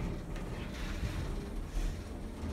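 A Kone hydraulic elevator car in a community center armory rises with a steady low rumbling hum and faint airy hiss, continuous and even throughout the short ride, with no voices.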